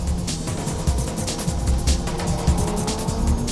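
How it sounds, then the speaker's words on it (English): Mitsubishi Lancer turbo race car climbing a mountain touge road, its engine droning loud and close with steady revving, intermittent thumps and faint tire noise throughout. "Orito's Lancer takes the uphill"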